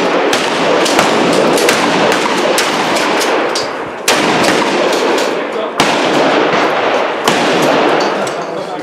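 A tactical shotgun fires in a rapid string of loud, close blasts, several overlapping with reverberant tails, while a voice talks over the shooting on an outdoor range.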